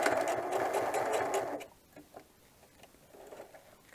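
A sewing machine stitching a double seam on a tote bag, a fast close mechanical whirring burst lasting about a second and a half before stopping, followed by quiet handling noises.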